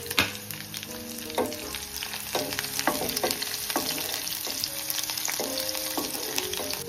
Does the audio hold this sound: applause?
no